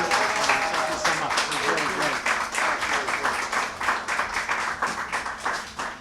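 A crowd applauds an award honoree at a Pride Month celebration, dense steady clapping throughout with voices mixed in beneath it.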